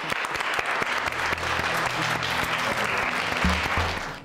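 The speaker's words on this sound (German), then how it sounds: "Applaus für Elena." Studio audience applause during a ZDF hypnosis show, dense sustained clapping from a crowd with faint background music tones underneath, continuous for the full length.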